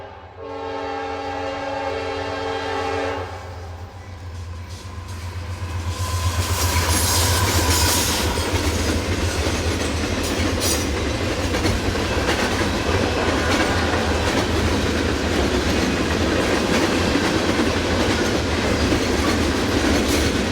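Freight train passing at Folkston, its horn sounding steady chords at first before the rumbling, roaring cars take over with continuous clickety-clack on the rails, loud and close throughout.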